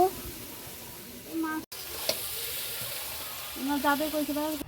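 Chicken meat goes into a pan of well-fried spice paste for a homestyle curry, sizzling and crackling close by with stirring and a sharp clatter midway; a faint voice-like tone sits in the background.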